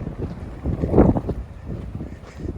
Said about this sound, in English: It's quite windy up here, or today.